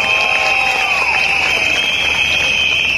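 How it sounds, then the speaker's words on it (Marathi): Dense crowd applause and cheering roll continuously through an outdoor political campaign rally, loud and sustained, with a high whistle-like tone and shouting voices mixed in. "एकदा जोरदार टाळ्या या चिमुकल्यांसाठी झाल्या पाहिजे."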